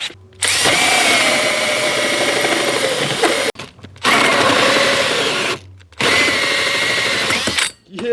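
A power drill bores a hole into a vehicle body during an LS engine swap, running in three sustained bursts of steady high-pitched whine with short pauses between them, loud and close.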